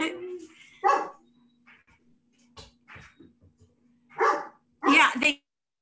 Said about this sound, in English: It's just that they're barking a lot.